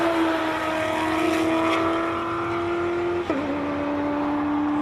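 The Elettrica electric race car at the Simola Hillclimb gives off a steady high whine with a pitch that dips briefly and settles, heard close and alone over light background noise.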